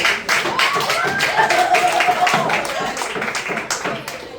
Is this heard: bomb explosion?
no